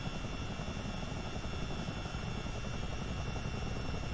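A CH-47D Chinook twin-rotor helicopter in Microsoft Flight Simulator gives a steady, loud, dense drone of engine and rotor noise, unbroken and close, with no voices.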